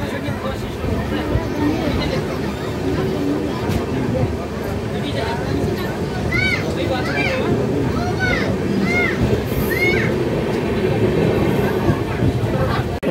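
A passenger train runs between Kolkata and Bhubaneswar, a steady loud rumble of wheels on rails heard from inside the carriage, with chatter and brief squeaks over it.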